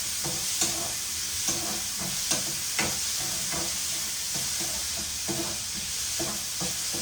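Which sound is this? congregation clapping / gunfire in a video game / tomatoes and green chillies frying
tomatoes and green chillies frying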